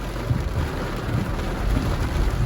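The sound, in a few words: rain falling on street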